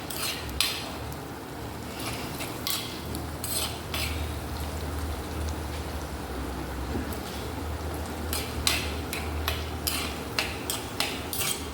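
Onions sautéing in a pan for a sardine curry, a steady close sizzle carrying repeated spatula scrapes and clinks against the pan.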